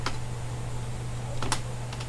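Clicky keystrokes on a computer keyboard, a few sharp isolated taps spread over a quiet steady hum, close and fairly faint.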